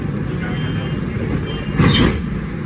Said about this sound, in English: Train is about to leave.